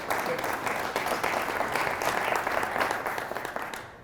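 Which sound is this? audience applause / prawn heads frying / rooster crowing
audience applause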